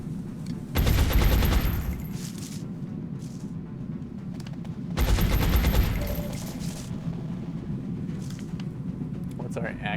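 Two loud bursts of rapid gunfire in the strategy game XCOM: Art of War, each roughly a second long and separated by a lull, with talking in the background.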